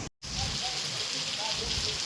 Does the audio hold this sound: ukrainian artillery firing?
no